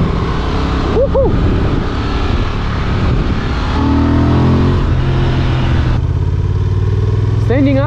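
Honda XL750 Transalp 2023 adventure motorcycle ridden on a road in the Black Forest, a steady engine drone with wind rush and a rev change midway, while a rider talks and whoops over it.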